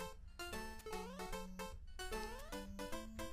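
A cat meows repeatedly in a video game, a quick run of bright rising and falling electronic-sounding mews, close and clear.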